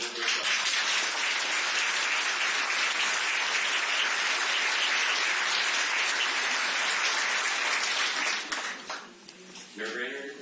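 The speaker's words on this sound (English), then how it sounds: "please give a round of applause to Mayor Jim Brainerd and Council President" A crowd claps in sustained, even applause that fills the room at a mayoral debate, then quickly tapers off near the end.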